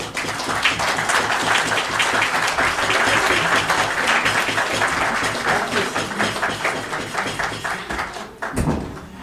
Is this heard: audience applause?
yes